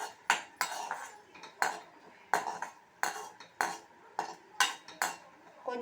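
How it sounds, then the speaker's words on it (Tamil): Cashews and raisins roasting in ghee are stirred with a metal spoon, producing a run of sharp, close scraping clatters against the pan in an uneven rhythm, about a dozen strokes, with only a faint sizzle beneath and no talk. "இந்த முந்திரி, திராட்சையை சேர்த்து வறுத்துக்கலாம்"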